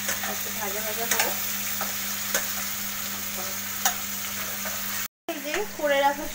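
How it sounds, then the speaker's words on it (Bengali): Chili chicken fries in a pan with a continuous sizzle while a utensil stirs and scrapes with several sharp clinks, followed by a short gap and a faint voice near the end. "একটু ভাজা ভাজা হোক।"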